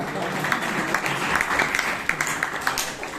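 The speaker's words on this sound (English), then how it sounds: "we will clap for Chiran" Members at a Bangalore Toastmasters meeting clap for Chiran, a steady patter of many hands with distinct individual claps standing out, moderately loud and close, carrying on throughout.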